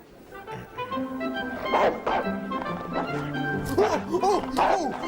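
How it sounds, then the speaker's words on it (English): A German Shepherd barks in repeated short yelps and whines over a steady backdrop of background talk and music, fairly close and moderately loud. "Oh, that dog's getting worse, I'm sure of it."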